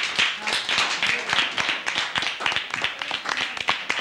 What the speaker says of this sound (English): a round of applause for Group 1